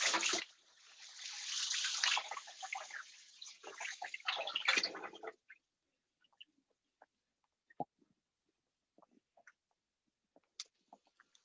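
Hands rinsed under a running kitchen tap during a vegan albondigas cooking session: about five seconds of close splashing water, then the tap shuts off, leaving near-silence with faint scattered clicks.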